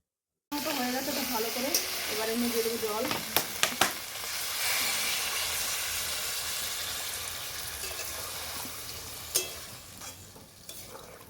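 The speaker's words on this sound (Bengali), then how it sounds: "ভালো করে আবার কষিয়ে নেব" Golden chicken curry masala is sautéed in a hot pan, giving a loud, steady sizzle with scraping spatula strokes and a few sharp clanks, while a voice speaks briefly at the start.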